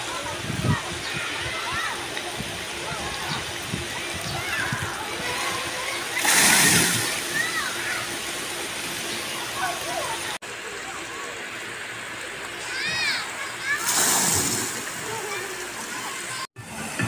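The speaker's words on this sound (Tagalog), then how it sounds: "Andito ako sa waterfalls." A waterfall at Amana water park in Pandi splashes and rushes steadily, with louder bursts of falling water now and then, while people talk and call out nearby over the constant wash.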